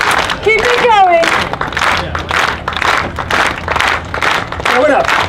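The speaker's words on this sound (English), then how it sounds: "Everyone, clap with your hands." A circus audience claps along in rhythm at a food-and-circus event, steady beats running under a loud presenter's voice and music throughout.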